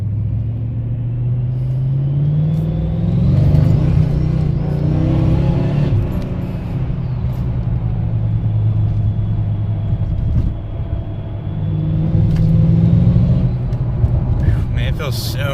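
A supercharged car with a newly installed clutch delete pulley drives along, its engine giving a loud, close, steady rumble that rises and falls with throttle, while people talk over it inside the cabin.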